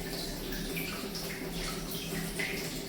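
Running water pours steadily into a household storage tank, a continuous splashing rush with faint dripping accents, moderately close and unbroken.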